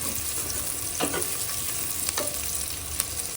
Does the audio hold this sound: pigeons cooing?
no